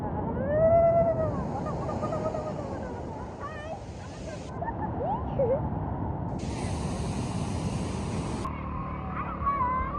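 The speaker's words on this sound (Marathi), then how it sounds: "लाटा अशा उचलतात ना भयानक" Big waves roll and break on Alibag beach in a steady low surge, with voices of a busy seaside crowd talking and calling over the surf.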